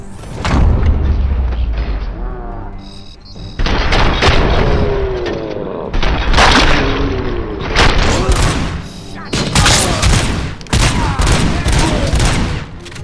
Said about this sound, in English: Let's blow up the fucking bomb.